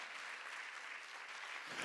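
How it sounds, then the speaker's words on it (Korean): A church congregation at a Sunday worship service claps together in sustained, even applause, heard at a moderate distance with no break. "박수로 하나님께 영광 돌려"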